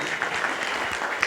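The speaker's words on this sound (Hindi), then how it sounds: "जोरदार तालियां इन मरीजों के लिए।" A crowd at the closing ceremony of a Lions Club eye camp in Bhopal claps for the patients, a steady, fairly close burst of applause with a few sharper individual claps standing out.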